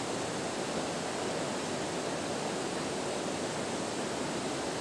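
A stream where people are bathing, its water rushing in a steady, even wash that stays constant and fairly close throughout, with no voices.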